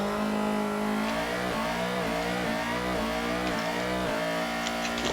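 A racing car engine in the Formula Sim Drift R7 video game screams at high revs, bouncing repeatedly off the rev limiter with rhythmic stuttering cuts, loud and continuous.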